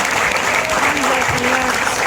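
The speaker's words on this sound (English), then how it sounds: "So big applause for Danone, 100 years." Crowd at a Danone 100th anniversary celebration claps loudly and continuously, a close, dense wash of applause with faint voices mixed in.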